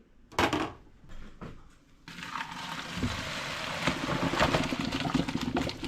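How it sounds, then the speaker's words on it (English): Water pours and splashes out of a pot as blanched chicken wings are drained in a home kitchen, a steady close rush with a few clanks of the pot at the start. "let's drain out the water"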